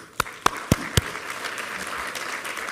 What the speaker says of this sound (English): everybody else ought to give themselves a great big hand of applause